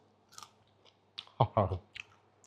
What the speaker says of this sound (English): Can you hear that crunch?